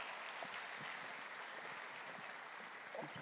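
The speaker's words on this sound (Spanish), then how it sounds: "recibámosla con un fuerte aplauso" An audience at a public-sector accounting congress in Bogotá claps to welcome a speaker to the stage, a steady quiet patter of many hands heard somewhat distant.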